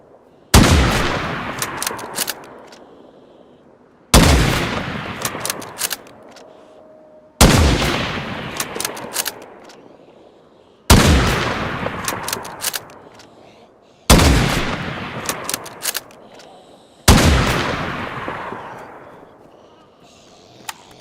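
Gunfire in the DayZ video game on the Chernarus map, six loud, evenly spaced single shots, each with a long echoing decay, about three to four seconds apart.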